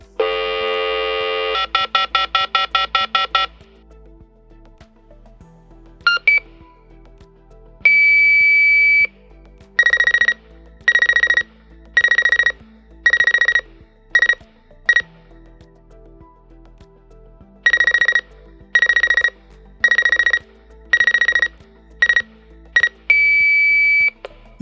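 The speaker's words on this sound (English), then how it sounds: "This is what a successful 2300 Hz 4x2 transmission sounds like." An alarm panel communicates over a Starlink radio with a 2300 Hz 4x2 transmission: a long handshake tone, a rapid burst of pulses, then repeated groups of clipped beeps with short gaps, clear and close.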